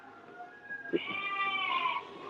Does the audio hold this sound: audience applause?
no